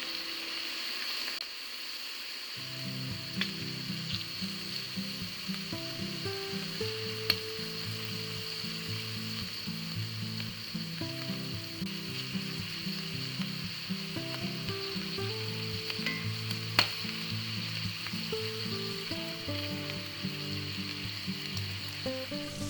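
Shrimp for chow mein sizzles and fries steadily in a hot pan, a constant crackling hiss that runs loud and close for the whole stretch, with occasional light clinks and stirring sounds.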